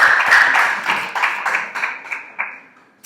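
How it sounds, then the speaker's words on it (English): A crowd applauds with dense clapping that starts loud and gradually thins and fades over a few seconds. "Let's give a round of applause."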